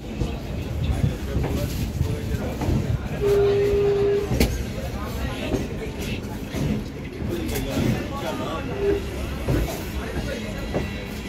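A passenger train pulls out of Kolkata at four o'clock on a foggy winter morning, bound for Gangasagar. Steady rumbling and rolling carriage noise fill the whole stretch, with a brief horn-like tone, and voices murmur faintly in the background.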